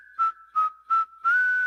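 Whistling from a song in the 2025 Snow White film, a steady pitch-corrected tone with four pulsing bursts that sounds smooth and robotic, heard alone without any voices.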